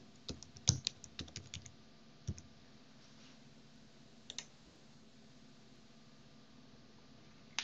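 Someone types a password on a computer keyboard: a quick cluster of soft key clicks, then a few isolated taps after longer pauses, faint and close in a quiet room.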